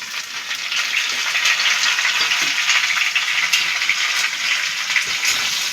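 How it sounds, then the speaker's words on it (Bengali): Potato, papaya and tomato fry in a pan for a Bengali curry, giving a continuous loud sizzle with the scraping of stirring close by, and no one speaking. "টমেটোটা দিয়ে ভালো করে মিশিয়ে দিচ্ছি।"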